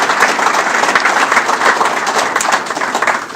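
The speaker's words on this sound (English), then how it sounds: "give Jamie a round of applause" Loud, close round of applause from an audience at a police department employee honors ceremony, many hands clapping briskly and evenly with some individual claps standing out.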